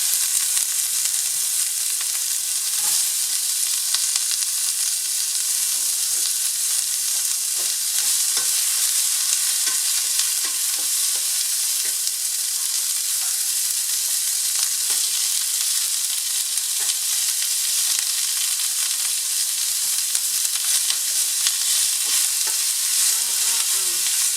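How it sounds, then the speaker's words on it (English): Onion and garlic sautéing in a hot pan for beef chop suey, a steady close sizzle with a bright, hissing texture and scattered crackles and stirring clicks running throughout, no one talking. "Smell of garlic and onion sautéing is always so delicious."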